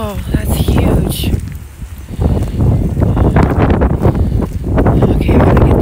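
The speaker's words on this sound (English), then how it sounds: "Right now, it's like super windy." Gusty windstorm roaring across a park under a big storm cloud, buffeting the microphone in loud surges with rustling, while people talk over it.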